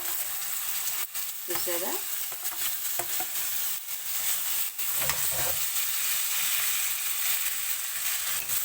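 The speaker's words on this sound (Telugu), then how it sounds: "ఇప్పుడు మనం నూడిల్స్ బాయిల్ చేసుకుంది వేసుకుంటామండి" Boiled noodles go into a pan of cooked vegetables and fry with a steady loud sizzle and crackle, broken by scraping stirs, while a voice briefly speaks.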